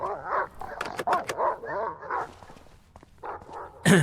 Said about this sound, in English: we can't let the dog out.